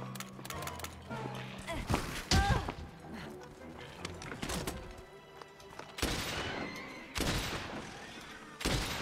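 Spread ammo fired from a bowgun in Monster Hunter World, a handful of loud cracking blasts and thuds spaced a second or two apart over game ambience, with someone talking at times.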